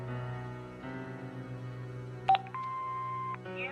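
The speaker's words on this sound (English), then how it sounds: "Hobbs's answer phone, and he's got messages." An answering machine in the Broken Sword 5 game gives a short pair of beeps and then a longer steady tone, set against a low background hum.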